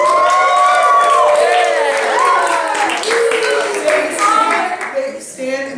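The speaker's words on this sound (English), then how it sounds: "And a bigger round of applause featuring hoots and hollers for our film" A crowd applauds with cheering, whoops and hollers, loud and close, clapping blending with rising shouted voices that taper near the end.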